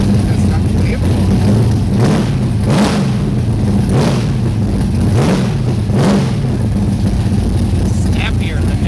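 A 1971 Chevrolet Corvette with an LS6 engine, restored back to stock, revs and accelerates with sharp throttle response, a loud, close, steady engine roar rising and falling through repeated surges, with talk over it.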